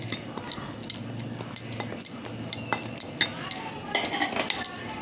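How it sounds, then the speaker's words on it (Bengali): A spoon stirs and clinks against a bowl as milk is worked into mango cake batter, with steady scraping and tapping strokes and a busier flurry of clinks near the end. "এবার আমি দুধটা দিয়ে গুলবো"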